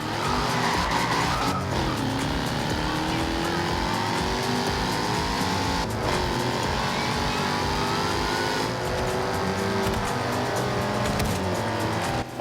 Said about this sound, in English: The thing with the F-type is the incredible sound.